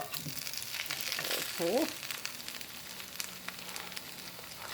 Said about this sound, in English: I'm making hash browns, and they're browning, and they're homemade